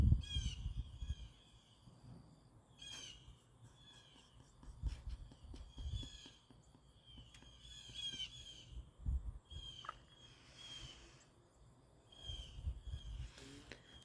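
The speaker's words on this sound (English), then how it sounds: "Just bird talk." Several crows caw repeatedly at irregular intervals outdoors, some calls near and sharp, others farther off, over a low rumbling background with occasional mechanical clicks.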